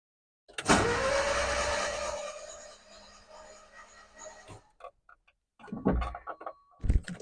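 A Subaru-engined Vanagon being cranked for its first start: a loud whirring crank lasts about four seconds and fades, then two short bursts of cranking follow after a pause.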